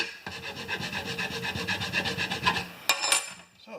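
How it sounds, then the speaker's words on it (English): Metal file rasping lead off a Honda mower part clamped in a vise, a steady run of quick rhythmic strokes up close, then a pause and two sharper scrapes near the end. "I'm just going to grind the lead off, and then after we grind the lead off with the files"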